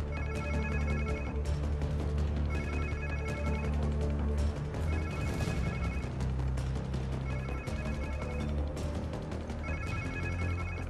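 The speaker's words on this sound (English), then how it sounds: "Sounds like somebody's phone." A telephone rings in repeated bursts with short gaps in the PS5 game Spider-Man 2, sitting over a steady layer of game music and ambience.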